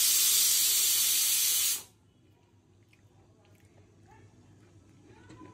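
A pressure cooker cooking pumpkin greens lets out a loud, steady whistle of escaping steam that stops abruptly after about two seconds, leaving a quiet kitchen background.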